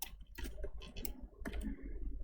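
Typing on a computer keyboard while writing a story document in Microsoft Word, heard as irregular clusters of quiet key clicks with no talking.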